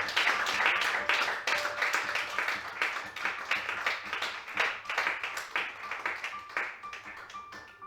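A church congregation applauds, a dense patter of hand claps that is fairly faint and gradually thins out into scattered individual claps.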